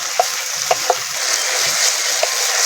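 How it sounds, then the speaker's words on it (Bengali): Tomato fries with ginger and garlic in a pan for an egg curry, giving a steady close sizzle with a few sharp crackles and spoon taps as it is stirred. "টমেটো ভালো করে ভেজে নিয়েছি"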